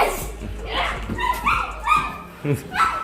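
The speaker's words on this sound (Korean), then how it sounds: "여기 또 강아지가 있네" Puppies in a room making small yips and whimpers, close by and intermittent, mixed with people talking and laughing over them.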